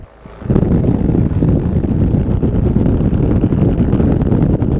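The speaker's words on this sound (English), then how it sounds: "Trying to take it easy on the motor right now" On its first flight, an Air Conception Delta 200 Nitro paramotor engine hums at low RPM, a steady low rumble mixed with heavy wind rush that rises after a quiet first half second.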